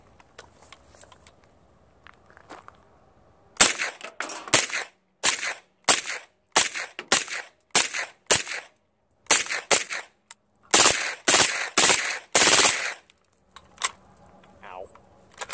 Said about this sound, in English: Same thing, MagTech, 150 grain brass case, suppressed, 25 rounds.